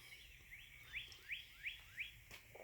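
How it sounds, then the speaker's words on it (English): Small birds chirp near backyard feeders on a dreary, damp morning, a run of five or so bright rising tweets at a steady pace over soft, constant outdoor background noise. "The birds seem happy though"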